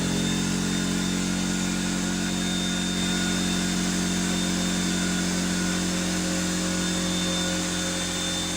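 A McGraw 21 gallon oil-free air compressor hums and whirs continuously in a garage, a steady unchanging motor drone with a faint high whine, no talking.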